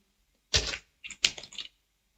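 Computer keyboard keys struck for an Excel shortcut, giving a few quick, close clicks in two short bursts against near silence.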